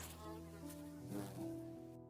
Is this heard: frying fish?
no